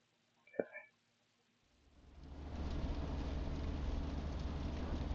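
Heavy rain downpour drumming on a car heard from inside, a dense steady hiss that swells in after a brief quiet moment and continues loud alongside a low engine hum.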